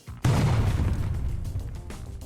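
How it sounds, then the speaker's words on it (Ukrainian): A sudden heavy explosion of a captured Russian armored vehicle erupts after a brief noise, then a deep rumbling roar sustains and slowly fades, loud and booming. "то вибухає вона дуже потужно"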